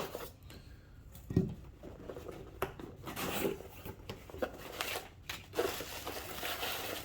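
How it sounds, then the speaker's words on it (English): Shipping package holding Musa sikkimensis cold-hardy banana plants being cut open: rough crunching and crinkling of packaging in irregular bursts, close and fairly loud, with no voices. "So let's go ahead and cut into this."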